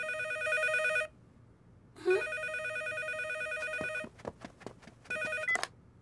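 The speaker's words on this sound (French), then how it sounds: "le téléphone va sonner" A telephone rings in bursts of electronic trilling bells, a few seconds each with short gaps, clear and fairly faint, with soft clicks and movement between rings and no voices.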